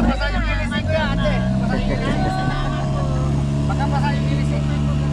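Fishing boat engine droning steadily and loudly close by throughout, with people talking over it.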